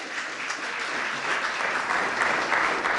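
Steady applause from an audience at a World AIDS Day commemoration, dense and even across the whole stretch with no voices on top.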